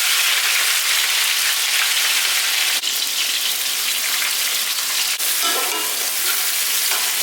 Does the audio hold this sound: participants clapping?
no